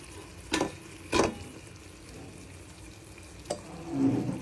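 Corn kernels tipped into a hot pan at a seafood cook-up, with a few distinct clattering drops and a steady low sizzle that swells toward the end.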